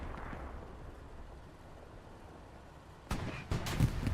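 A pack anti-tank gun in Hell Let Loose fires on a medium tank: after a stretch of quiet battlefield ambience, several sharp heavy cannon reports crack out in quick succession near the end, fairly distant and moderately loud.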